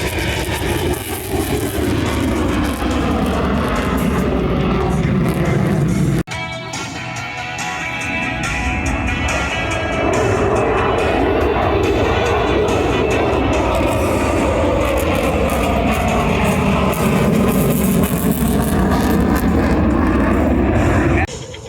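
Loud roar of a Hornet jet flying aerobatics at the Thunder over Michigan airshow, a sustained engine blast that dips briefly, then swells and sweeps back in pitch as it passes, with an announcer talking over it.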